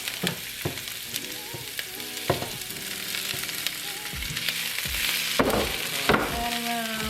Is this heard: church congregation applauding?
no